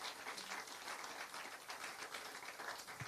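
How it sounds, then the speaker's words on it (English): An audience at a press conference and inauguration ceremony for a bone marrow transplant unit claps for the Sankalp team, steady moderate applause from many hands, fairly quiet and even throughout. "I think we must applaud them, and a big applause for them."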